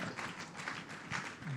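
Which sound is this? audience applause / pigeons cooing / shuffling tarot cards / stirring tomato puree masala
audience applause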